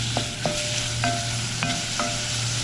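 Chicken sizzles steadily in a hot pan while a utensil stirs it in a few distinct scrapes and knocks, close and fairly loud over a constant fry.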